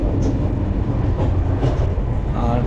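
A passenger train with sleeper coaches runs steadily, its rumbling rolling noise continuous and close from inside the carriage, with faint voices in the background.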